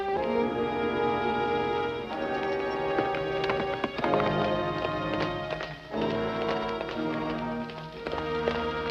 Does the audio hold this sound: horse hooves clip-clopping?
yes